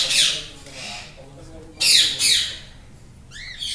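A blue lacewing ringneck parrot in an aviary gives several loud, harsh squawks close by, with short gaps between calls and a quick chirp at the end.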